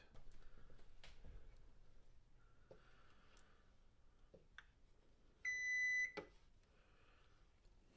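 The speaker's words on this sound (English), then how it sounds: "Well, the timer's over." A kitchen timer gives a single high electronic beep lasting about a second, faint and alone amid quiet room noise with a few soft knocks.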